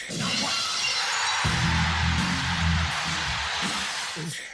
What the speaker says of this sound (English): I still remember hearing Steve Austin's glass breaking.